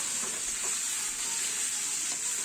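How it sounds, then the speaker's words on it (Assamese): Boiled broiler chicken frying in hot oil in a karahi, a steady close sizzle with a bright hiss that runs on evenly. "তেলত দিয়াৰ লগে লগে কিছু সময় ফুটিব আৰম্ভ কৰিলে মাংসখিনি"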